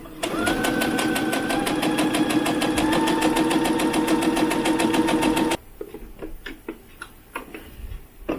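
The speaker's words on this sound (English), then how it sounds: "we sew along one edge, grab another piece, sew along one edge" A sewing machine stitches doll hat pieces in a steady, fast mechanical whir with a rhythmic ticking for about five seconds, then stops, leaving faint handling clicks and rustles.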